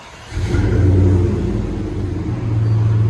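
A Dodge Dakota SLT with a 4.7L V8 and loud aftermarket exhaust revs up close. A low idle jumps into a deep, booming rumble that holds, eases briefly, then swells again.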